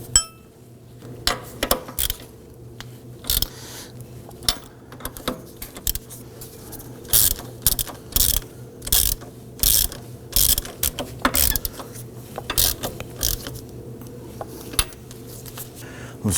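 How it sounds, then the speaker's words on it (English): Ratchet clicking repeatedly in short bursts while tightening steering knuckle bolts on a 2005-2009 Subaru Legacy, with bursts of rapid pawl clicks separated by brief pauses, close and fairly loud. "Let's go ahead and torque these down to 112 foot-pounds."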